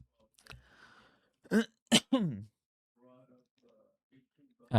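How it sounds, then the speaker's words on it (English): A few sharp, isolated coughs break out close by, followed by quiet, faint sounds and another abrupt cough at the very end. "Pardon the cough."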